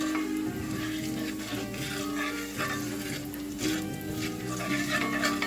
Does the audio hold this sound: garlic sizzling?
yes